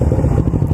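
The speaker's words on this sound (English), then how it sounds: "I'll let you hear the exhaust" Kawasaki Ninja 650 motorcycle fitted with a Scorpion aftermarket exhaust, idling or revving with a loud, steady low-pitched burble that sounds close by, with no one talking over it.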